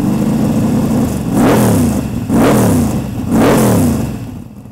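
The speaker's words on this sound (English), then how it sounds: "it's a 383 stroker on NOS, putting out probably around about 650 horsepower with a 150 shot of NOS" A boat's 383 stroker engine on nitrous oxide, around 650 horsepower, revs hard three times in a row, each loud rising blip dropping back to a rough, throbbing idle, close and unaccompanied by talk.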